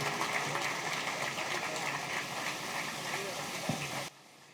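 An audience applauds for Adil bhai at a formal presentation event, a dense, even wash of clapping at moderate distance that stops abruptly near the end.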